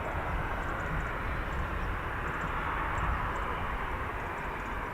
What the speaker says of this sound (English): An MRA, a maritime reconnaissance attack aircraft.